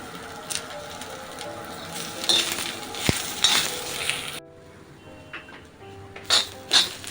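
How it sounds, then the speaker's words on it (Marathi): Onion frying in oil in a pan until golden brown, a soft continuous sizzle with occasional scraping stirs and a sharp clink, fairly quiet throughout. "आपण त्यामध्ये कांदा टाकूया आणि कांदा मस्तपैकी असा गोल्डन ब्राऊन होईपर्यंत भाजून घ्यायचा आहे आपल्याला"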